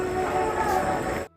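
A train rumbles steadily past with a droning, humming roar, close and continuous, before cutting off abruptly at the end.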